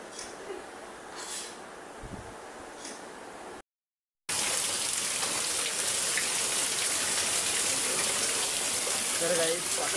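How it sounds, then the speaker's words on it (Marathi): Rain falls steadily, a soft patter at first that breaks off briefly and then returns as a louder, denser downpour on a surface. "पाऊस पडतोय आज"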